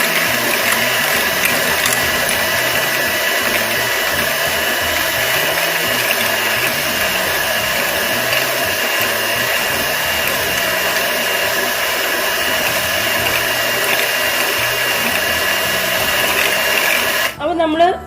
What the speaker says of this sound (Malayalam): ഇനി നമ്മൾ 1/2 കപ്പ് ഷുഗർ കുറേശ്ശെ ചേർത്ത് ബീറ്റ് ചെയ്യാം കേട്ടോ